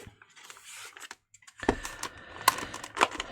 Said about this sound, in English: something's clicking inside before we go to red